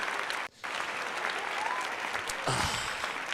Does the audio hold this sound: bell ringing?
no